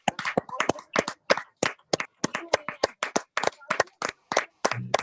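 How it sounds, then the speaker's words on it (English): At a Toastmasters club meeting, a few people clap in sharp, distinct claps with brief gaps between them, close and fairly sparse rather than a full crowd roar. "I think we should all stand up and give him a huge round of applause."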